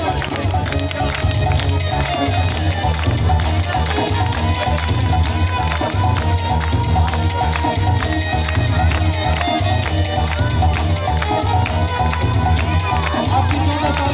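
An audience at a live Christian meeting in Tara Garh keeps up dense, continuous applause and cheering. Crowd noise with a heavy low rumble stays loud and sustained throughout, with babbling voices mixed in.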